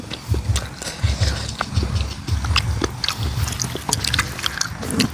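Crunchy cucumber is bitten and chewed close up in a steady rhythm of crisp crunches, with faint background noise between bites.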